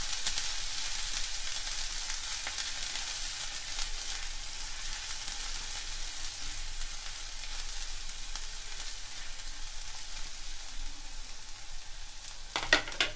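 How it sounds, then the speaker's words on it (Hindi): Onions deep frying in hot oil, a steady, dense sizzle and crackle that holds evenly throughout, with a few sharper spatters near the end and no talking. "अब हम लोग का ऑयल गर्म हो चुका है, इसमें पहले आप प्याज डालिए"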